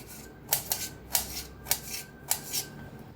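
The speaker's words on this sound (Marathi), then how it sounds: "असं बारीक कापून घेऊया सगळंच।" Raw mango is chopped finely with a knife on a board, producing a quick run of close, crisp cutting taps, roughly seven in steady rhythm, distinct against a quiet background with no voices.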